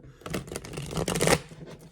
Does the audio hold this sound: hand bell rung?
no